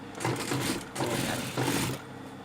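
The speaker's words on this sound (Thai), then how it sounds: "เราก็มาเย็บอีกเส้นหนึ่งนะคะ คู่กันคู่กันกับเส้นเมื่อกี้นะคะ" Sewing machine running in steady bursts while stitching a second seam parallel to the first along a curved edge, a close, continuous mechanical whir with brief pauses between runs.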